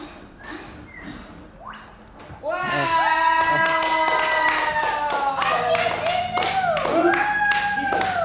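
Quick, loud rhythmic claps tap out steadily alongside high, sliding vocal squeals and chatter close by.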